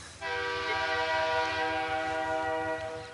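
A train sounds its horn in a long, loud, steady blast while passing close by in the rural Vale Indiana area, with rumbling wheels underneath and no talking.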